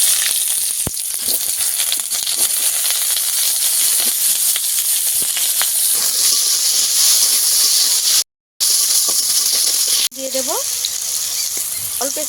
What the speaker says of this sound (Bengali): তেলটা ভালোভাবে গরম হয়ে গেছে আলু আর বেগুনটাকে প্রথমে ভেজে নেবো